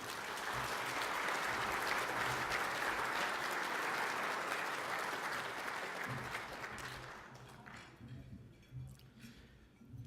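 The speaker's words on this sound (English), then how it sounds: "Would you give him a big round of applause?" Audience applause at a football lecture event, a fairly faint but full bed of clapping from a large room that holds for several seconds and then tapers to scattered claps.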